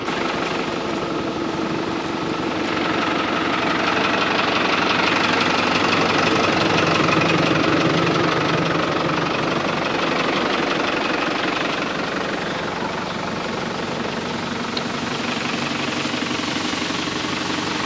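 A farm sprayer's engine runs steadily in a wheat field, a constant mid-pitched drone with a knocking texture that holds evenly throughout, with no talk.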